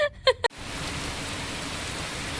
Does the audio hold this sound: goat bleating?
no